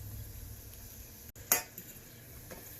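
Empanada frying in a pan gives a soft, steady sizzle, broken by a brief scrape and clink of a utensil against the pan midway.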